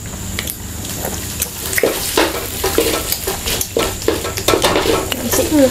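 Sausage fried rice being stir-fried in a pan, the spatula scraping and clattering against the metal in quick irregular strokes over a steady sizzle, close up with no talking.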